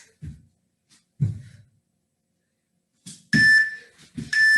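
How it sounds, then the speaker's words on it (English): Workout interval timer during a bodyweight bootcamp class, sounding two loud, steady electronic beeps near the end, with short breaths or grunts from exercisers before them. "when the timer rings, just stay down."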